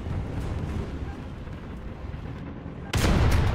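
A tank cannon in the War Thunder video game fires one sudden loud blast near the end, after a stretch of low, steady engine rumble.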